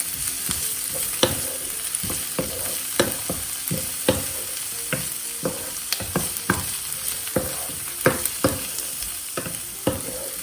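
Onion roasting in an oiled pan, a steady close sizzle with regular scraping stirs from a spatula recurring about once a second, no voices over it.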